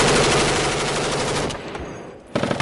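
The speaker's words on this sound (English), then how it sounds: "We're taking heavy fire from..." Heavy automatic-weapon fire from a firefight in Afghanistan's Korengal Valley, recorded close up on a helmet camera: dense, loud rapid bursts, then a brief lull and another burst of shots at the end.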